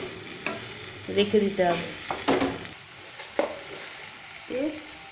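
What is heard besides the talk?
banana flower (mocha) being stir-fried in a pan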